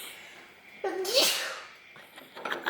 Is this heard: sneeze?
yes